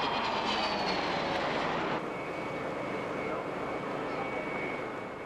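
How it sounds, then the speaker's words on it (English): A Nimrod, the RAF anti-submarine jet adapted from the de Havilland Comet, roars loudly and steadily at the 1997 Mildenhall air fete, its broad jet rush easing slightly after a couple of seconds. "This is Nimrod, or the Prowler, which is used by the RAF for anti-submarine warfare"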